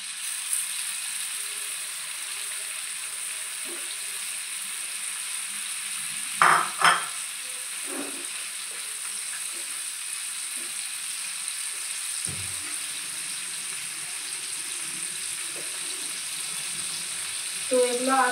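Small chicken pieces shallow-fry in butter in a pan with a soft, continuous sizzle, broken by a few brief clinks and scrapes from utensils against the pan. No one is speaking.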